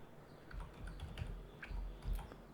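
Keys clatter on a computer keyboard in short irregular bursts as a search term is typed, fairly close and moderately quiet, with no voices.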